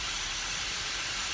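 A steam locomotive on the Isle of Wight Steam Railway hissing as the regulator opens and steam reaches the cylinders, a loud, steady broadband rush heard close up from the footplate.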